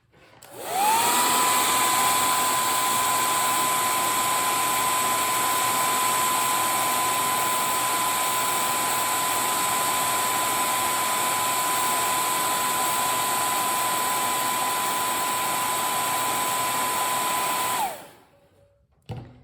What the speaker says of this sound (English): So I'm gonna blow dry one more time